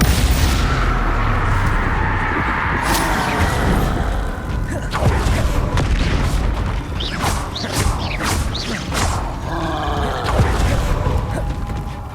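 Confringo spell blasts in Hogwarts Legacy, heavy booming explosions and crashing debris over dense game sound effects, several bursts through the stretch with a steady loud rumble underneath.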